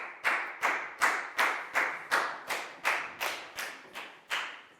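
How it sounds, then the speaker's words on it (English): Classroom clapping for a pupil in a Year 4 maths lesson comes as about twelve evenly spaced claps in a slow, steady rhythm, each a sharp crack with a brief ringing tail. "a big round of applause for Annette"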